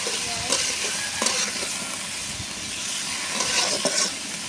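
Goose meat is stirred in a hot kadai, a loud crackling sizzle with repeated metallic scrapes of the spatula at irregular intervals.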